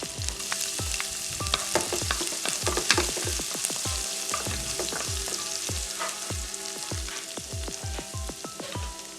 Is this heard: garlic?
yes